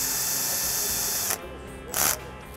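Power driver with a T30 bit tightening the wave rail hold-down bolts on a 6.0L diesel cylinder head, whirring steadily then stopping, followed by a brief second burst.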